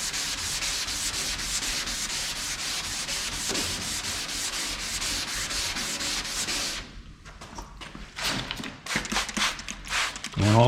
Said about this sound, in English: So that's why we keep sanding with the 400.